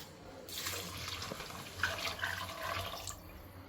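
Hot water is poured into a pot of rice for pulao, a short close gushing splash that starts abruptly, runs for about three seconds and then tapers off.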